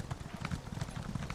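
A stampede of horses in the Elder Scrolls Online video game, a steady quiet patter of many hoofbeats clopping together in a fast, irregular rhythm with no talk over it.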